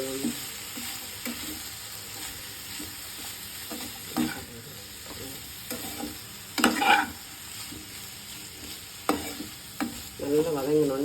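Ivy gourd frying in a pan with asafoetida, a steady close sizzle broken by repeated scraping stirs of a spatula against the metal.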